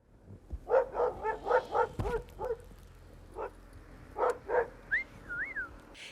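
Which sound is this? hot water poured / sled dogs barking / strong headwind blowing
sled dogs barking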